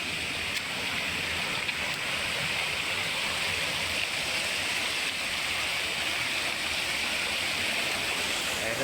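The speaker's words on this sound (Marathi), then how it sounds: "पुढे आपल्याला धबधब्याचा मस्त आवाज येतो." Steady, loud rush of falling water from a waterfall ahead on a climb past a fort, a continuous broadband roar with no break and no talk over it.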